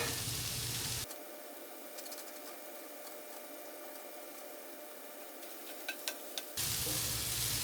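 Garlic sizzles in a frying pan for several seconds as a steady, soft crackling hiss, with a few sharper pops near the end and no talking over it.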